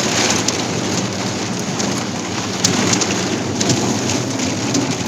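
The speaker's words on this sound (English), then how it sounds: "We're on the way back and it's raining crazy." Heavy rain pours down during an offroad drive in a Mahindra Thar in Karnataka, a dense, loud, unbroken hiss of drops drumming on the vehicle with no talking.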